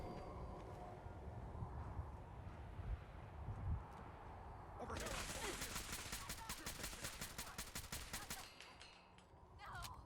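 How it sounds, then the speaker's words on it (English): Assault rifle fire in the video game Fallout 4: rapid, loud bursts of automatic gunfire sounding for several seconds after a quieter stretch of ambient noise. "you guys notice how badass this assault rifle is"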